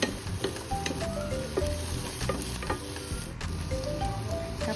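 Chicken feet sautéing in a pan with garlic, onion and ginger for adobo, a loud steady sizzle and crackle with occasional clinks of stirring, no talk.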